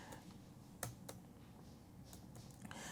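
Faint clicks from a computer keyboard come in a few scattered keystrokes over a quiet room hum, with a couple of sharper taps and no talking.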